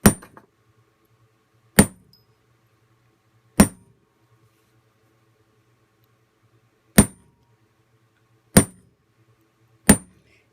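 Six sharp metallic taps, likely a hammer or punch striking an oval metal blank to add small divot textures for a toggle clasp, spaced irregularly about a second or two apart, each ringing briefly over a faint low hum.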